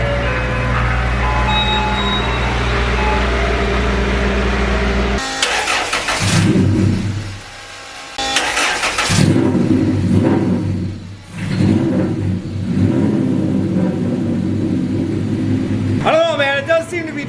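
The LS-swapped Chevrolet Colorado's V8 fires up after a steady drone, then idles loud and close with several throttle revs rising and falling. A voice briefly speaks at the end.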